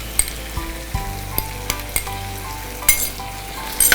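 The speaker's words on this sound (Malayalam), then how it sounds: "ഇനി എല്ലാം കൂടി കിടന്നൊന്ന് മൂക്കട്ടെ" Ginger-garlic paste and wilted onions fry in a pan for paneer pepper roast, giving a steady crackling sizzle broken by sharp spatula clicks and scrapes as the mixture is stirred.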